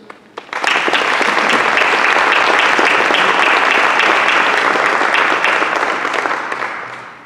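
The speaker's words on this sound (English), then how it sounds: "please join me once again in applauding all of our new National Honor Society members" An audience at a 2021 National Honor Society induction ceremony applauds its new members. Dense, even clapping swells within a second, holds steady and loud, then tapers slightly at the end.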